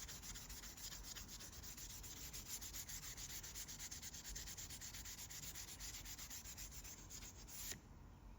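Steady, close abrasive sanding of curb rash on an aluminum diamond-cut alloy wheel, a continuous gritty scrubbing hiss with a quick rhythmic stroke texture that runs unbroken before a brief pause near the end.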